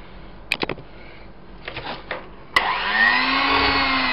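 A few clicks and knocks lead into an electric mixer whirring up to speed as it beats flour into cupcake batter, a steady close hum that holds to the end.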